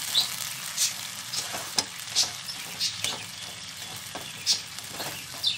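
Sooji upma is stirred in a pan on the stove, a soft frying sizzle under repeated scraping strokes of a spoon against the pan at an uneven rhythm, close and clear with no talk.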